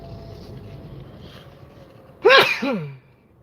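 A single sharp sneeze bursts out after a stretch of quiet background rumble, loud and close, trailing off with a short second exhale.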